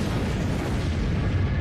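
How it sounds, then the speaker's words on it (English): A huge explosion of the Tunguska fireball above the Siberian forest, rendered as a loud, continuous deep rumbling roar that stays dense and sustained throughout, with no voices. "the fireball entered our atmosphere and violently exploded above Siberia's"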